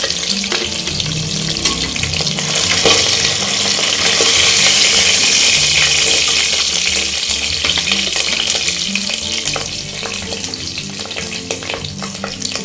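Fish fries in hot oil in a pan for a masala fish curry, giving a steady, close, loud sizzle and crackle that runs throughout without a break, with no talking over it.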